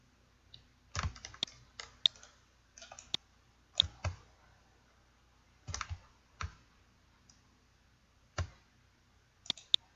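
Sharp computer mouse clicks while modelling in Autodesk Maya, mostly paired double-clicks, scattered irregularly across a quiet room, close and crisp with no talk.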